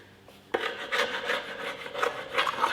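Sandpaper rubs back and forth over primed wood in steady, rasping strokes, close and moderately loud, starting abruptly and continuing without talk.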